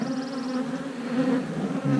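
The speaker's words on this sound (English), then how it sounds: "look at all those bees" Honeybees buzz steadily around an open beehive, a dense close hum of many insects continuing without pause for the whole stretch.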